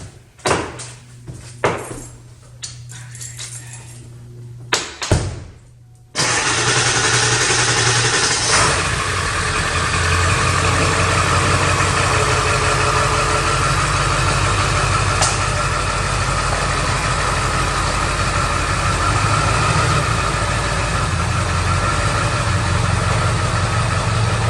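Some knocks and a door thud come first, then a 2002 Ford F250 Powerstroke diesel that had sat for two years starts abruptly and settles into a loud, steady, rumbling idle close by for the remaining twenty seconds.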